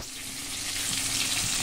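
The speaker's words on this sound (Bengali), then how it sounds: "এই যে 3 পিস মাছ আমি ভাজা করতে বসিয়ে দিয়েছি। নুন হলুদ মাখানো মাছ।" Three pieces of fish coated in salt and turmeric fry in hot oil, giving a steady, loud, close sizzle with a continuous crackling hiss and no voices.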